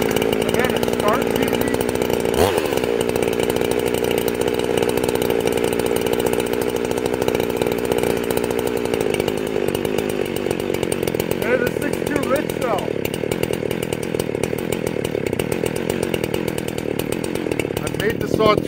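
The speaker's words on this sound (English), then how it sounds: "This is the sign of a rich saw. It'll sit here and idle and it'll die." A chainsaw idles with its carburetor set too rich. The engine runs steadily and loudly for the whole stretch with a rough, uneven low rumble.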